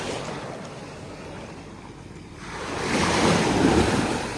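Sea waves breaking on a beach, a steady wash of surf that swells louder toward the end, with wind buffeting the microphone and no voices.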